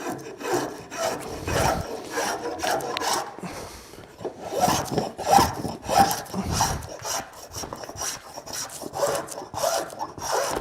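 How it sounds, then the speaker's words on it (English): Coarse spokeshave shaving a wooden table leg by hand, a series of rough rasping strokes in an uneven rhythm, close and fairly loud, with no talk over them. "so we're going to go to the spoke shave. I'll go to the coarse one first"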